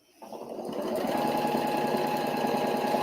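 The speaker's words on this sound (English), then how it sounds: "Your machine doesn't need to be on full tilt." A sewing machine starts up from silence and quickly settles into fast, even stitching that runs at a steady, close whir while a fabric ghost garland is sewn.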